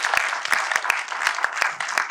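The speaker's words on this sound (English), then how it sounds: "Let's give a round of applause to Mr. Godrej." An audience at a literature festival session claps to welcome a speaker, a steady patter of applause with a few sharper claps standing out, moderately distant and with no talk over it.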